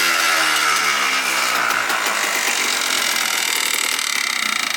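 Freshly rebuilt Yamaha Blaster 200 ATV engine idling, a loud, close, steady two-stroke burble with a rapid even pulse and buzzy high rasp, running alone.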